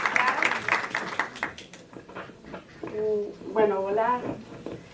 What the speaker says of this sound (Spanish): Así que sin más dilación le damos un fuerte aplauso a Carla y la bienvenida.